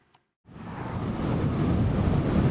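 Strong wind buffets the microphone outdoors, rising from silence after a brief tap into a steady, loud roaring rush that holds to the end.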